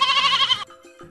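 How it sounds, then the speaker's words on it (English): A soft sheep bleat on a farm, a single wavering cry lasting just over half a second, loud and close, then fading into quiet low sounds. "The soft sheep goes."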